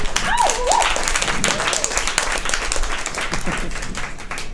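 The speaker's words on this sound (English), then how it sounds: "Clap it up for Evan." An audience claps for a speaker at a psychedelic speakeasy event, a loud dense burst of applause with whoops and a voice calling out over it.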